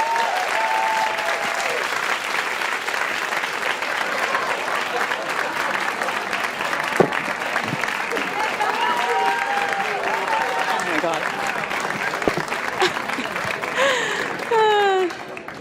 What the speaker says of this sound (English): If you want to give them a big round of applause.